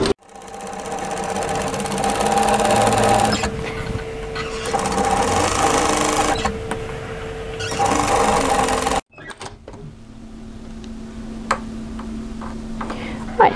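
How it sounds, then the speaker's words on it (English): Sewing machine running a row of stitches along the folded hem of a tee, steady mechanical whir for about nine seconds, then stopping; a softer hum with faint clicks follows. "I'm now going to run another row of stitches directly to the side and parallel to the seam I've just sewn, and I'm going to sew it on this folded edge"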